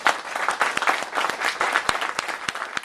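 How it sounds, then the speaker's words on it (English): A burst of applause from an audience at a professional networking talk, many hands clapping together steadily for a few seconds, moderately loud. "Please give them a big applause."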